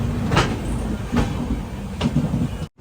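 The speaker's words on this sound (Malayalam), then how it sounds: "അപ്പോൾ ഇത് ബിലാസ്പൂർ രാജധാനി എക്സ്പ്രസ് ആണ്" The Bilaspur Rajdhani Express rolls past on the rails with a steady rumble and periodic clacks of wheels over joints, close and loud, ending abruptly.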